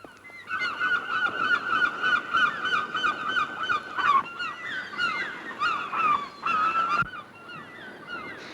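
Geese honking on a remote island, a dense chorus of repeated nasal calls overlapping from several birds at fairly close range, with brief lulls before bursts resume.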